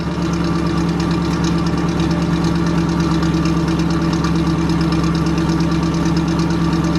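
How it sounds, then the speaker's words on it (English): A 1967 Cadillac Eldorado engine running at a cold idle, a steady close rumble with a faint knocking pulse that holds evenly throughout with no voices. "we just started, so you can hear it's a little cold idle"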